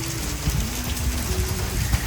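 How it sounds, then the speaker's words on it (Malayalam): Heavy rain falls at a resort, a steady hiss of dense drops that stays even and moderately loud for a couple of seconds, with no talking. "നല്ല ഹെവി മഴയാ"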